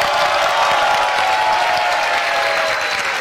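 A studio audience claps loudly and steadily, a dense continuous wash of applause with faint cheering mixed in, close and sustained throughout with no talk over it.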